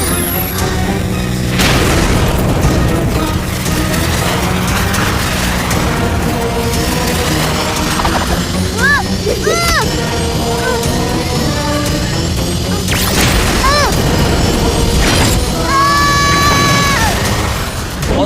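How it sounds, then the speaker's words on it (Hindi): Cartoon aircraft blowing up in a Hindi animated robot-boy action scene, heavy booming blasts and crashes layered with whooshing effects, loud and continuous throughout. "वीर ने तो एयरक्राफ्ट ब्लास्ट कर दिया"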